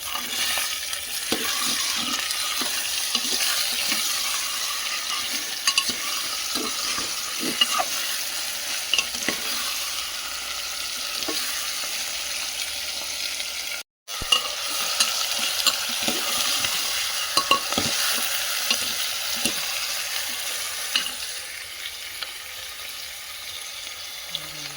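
Marinated mutton frying in a pan, a steady broad sizzle with repeated stirring scrapes and clicks throughout, close and continuous, with a brief dropout partway.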